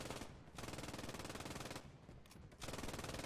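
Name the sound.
MG44 machine gun firing in Post Scriptum video game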